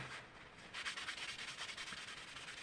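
Rubbing down the finish on a Telecaster-style partscaster guitar body by hand, close and fairly quiet, with rhythmic back-and-forth scrubbing strokes repeating steadily and no voices.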